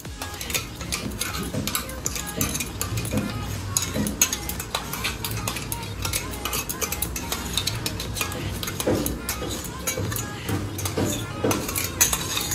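Chicken is stirred together with a paste of cashews, onion, green chili and yogurt, a utensil scraping and clattering steadily against the pan with a soft sizzle beneath, continuous and close.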